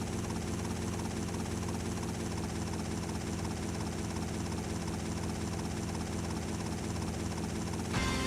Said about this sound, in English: I'm tired of this helicopter in my ear, like at all times.